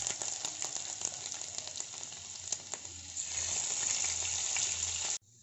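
Ginger and garlic hit hot oil in the pan left from frying squid for a Kerala-style roast, a bright, steady sizzle with small crackles that swells briefly and then cuts off abruptly, no voices.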